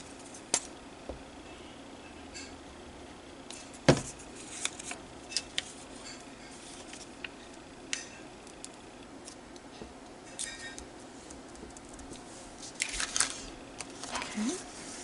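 Scissors snip through paper scraps while a card is being made, with sparse quiet clicks and a few sharper cuts at irregular intervals over a steady low hum.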